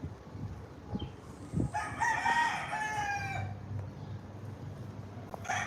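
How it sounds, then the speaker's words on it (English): Roosters and chickens kept out back: a single rooster crows clearly at mid-distance, with soft clucks and low background rumble before and after. "They have the chickens and stuff. But I like the noise."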